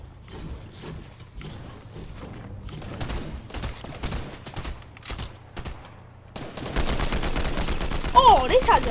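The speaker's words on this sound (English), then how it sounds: "insanely rapid fire. Like, this might be up at one of my top favourite guns." Rapid automatic gunfire from a favourite gun in the Fortnite video game, dense bursts of shots over game sound effects, growing louder and busier toward the end.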